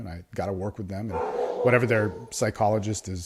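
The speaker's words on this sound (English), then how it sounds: "Sorry about the barking there, but dog-friendly house." A dog barks inside a house, several short yips and barks heard faintly beneath someone talking steadily close by.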